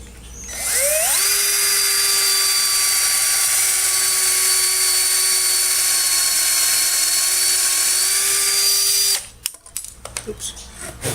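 Power drill driving exterior deck screws into wood on a restored Craftsman workbench: one long, loud, steady whine that climbs briefly at the start, holds for about eight seconds, then cuts off into faint handling clatter.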